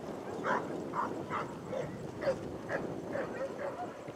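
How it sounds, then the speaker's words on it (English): Several sheepdogs barking and yipping while herding a mob of sheep toward a woolshed, with a string of short, moderately distant barks over a steady noisy background. "I lost count of the dogs."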